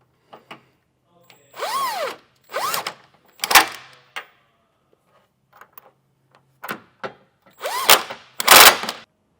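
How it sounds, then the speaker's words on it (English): A power drill with a 3/4 inch socket tightens trailer hitch bolts on a 2022 Chevrolet Express in several short bursts, each revving up and winding down, separated by brief pauses and small clicks. "what I have today, a drill, that tighten this down the rest of the way"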